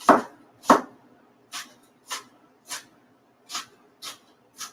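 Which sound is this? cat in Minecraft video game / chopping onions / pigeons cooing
chopping onions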